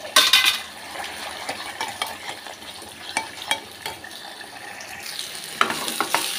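Spinach koftas frying in spiced masala as a spoon stirs them, sharp scrapes and clinks against the pan over a low sizzle, with irregular bursts of stirring noise and no voices.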